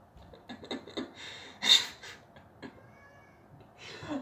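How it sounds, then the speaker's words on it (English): A cat cries outside in a series of faint, drawn-out meows, with one louder wail in the middle and another toward the end, heard at a distance against a quiet room. "there is a cat crying outside"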